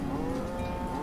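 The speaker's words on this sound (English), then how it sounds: "Milk the cows faster." Cattle in the colony-building game Banished let out a single drawn-out moo, close and clear over a faint background, with no talking.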